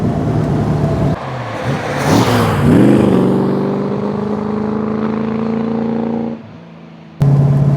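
A Daimler SP250 V8 engine revving as the car drives, rising through a long climbing pitch and then holding a steady, close, loud drone before dropping away and cutting back in at the end.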